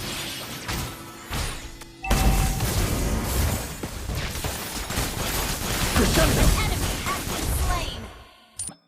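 Granger's ultimate Symphony of Doom fires in the Mobile Legends video game: a dense, loud run of rapid shots and crashing impacts about six seconds long, layered over game music, ending in a final sharp hit.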